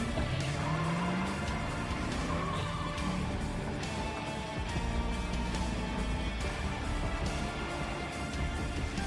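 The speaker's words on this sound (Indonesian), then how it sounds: "Langsung tancap gas dan berusaha kabur menghindari polisi itu." Car speeding away from police in a film chase, a loud continuous engine roar with revving and tire squeal layered over dense soundtrack noise throughout.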